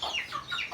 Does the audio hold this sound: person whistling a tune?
no